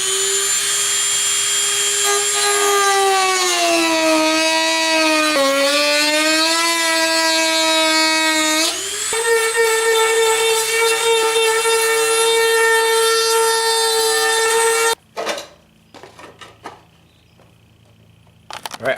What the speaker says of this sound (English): I'm going to cut, like with a Dremel, a groove here